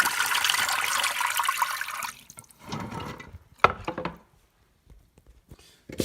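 Water runs steadily from a tap for about two seconds while leaves are rinsed, then stops, followed by splashing, drips and a sharp knock as the rinsing continues close by.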